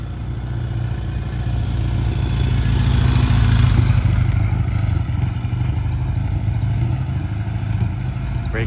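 Norton motorcycle engine on a test ride after sitting unused for a long time, a steady loud low rumble that swells as the bike rounds a corner, then holds on at a fairly even level.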